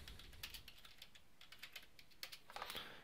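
Keystrokes on a computer keyboard as a name is entered into a speech recognition program, quick irregular clicks in short bursts, brisker toward the end, close and fairly quiet with no talking.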